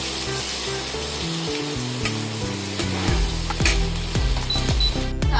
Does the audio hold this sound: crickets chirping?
no